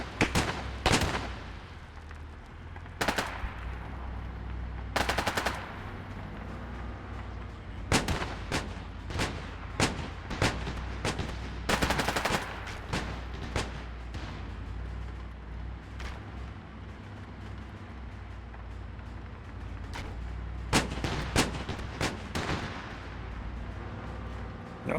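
Artillery and machine gun fire in the military game ArmA 3: sharp, loud blasts and bursts of shots arrive in irregular clusters, some near and booming, others quick crackling rattles, over a low rumbling background.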